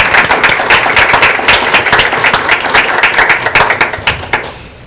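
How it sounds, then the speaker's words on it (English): Audience at a school board meeting claps for an honoree as she walks up, a dense, steady patter of many hands that holds close and fairly loud, then thins out toward the end. "Can we clap for her while she's making her way up?"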